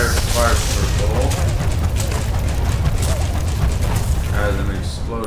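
A fire circle attack in Skylanders Swap Force goes off as a loud, dense, continuous roar of booming crackle, filling the whole stretch without a break.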